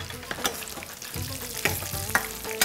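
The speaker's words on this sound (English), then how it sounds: "So all of these array of nuts are gonna get toasting." Handfuls of almonds and pine nuts toast in hot olive oil in a pan, with a steady close sizzle and scattered rattling as the nuts are tossed and stirred.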